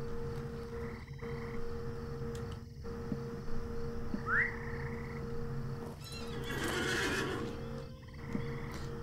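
A horse in the video game Lord of the Rings Online gives a single brief whinny partway through, heard over a steady bed of game ambience with croaking frog-like sounds and soft hoofbeats.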